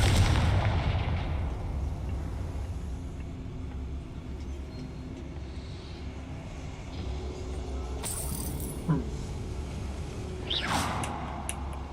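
A Confringo fire spell detonates in Hogwarts Legacy: a heavy booming blast rumbles loudly at the start, then trails into a long, low, noisy decay with a few faint crackles and a thin sweep near the end.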